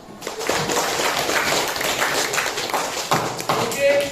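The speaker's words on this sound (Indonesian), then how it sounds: "Coba tepuk tangan untuk kita semua." Pupils in a classroom clap their hands together in a dense, steady burst that fills the room and keeps going throughout, with some scattered voices mixed into the applause.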